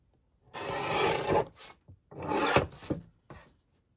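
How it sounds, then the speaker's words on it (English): A paper junk-journal tag is trimmed at close range: two dry, rasping bursts of cutting with short pauses and a few small ticks between them. "Trim a bit off this part."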